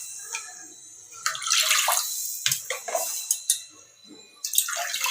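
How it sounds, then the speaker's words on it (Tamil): Water poured into a pan while making mango kesari, heard as intermittent close splashing and trickling bursts with short pauses between pours and no talking. "பெரிய டம்ளரில் 2 டம்ளர் தண்ணி விட்டுருக்கேங்க."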